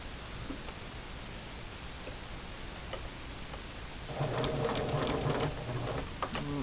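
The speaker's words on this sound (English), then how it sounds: "I'm going to go ahead and start sewing." A sewing machine with a walking foot starts stitching fabric to re-cover an old oven mitt: soft mechanical ticking at first, then a steady, close, rapid whirring patter of the needle for the last few seconds, with no voices.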